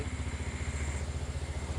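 A Yamaha Sniper 150 motorcycle engine idles steadily after the throttle is let go, a close, even, low pulsing putter with no talk over it.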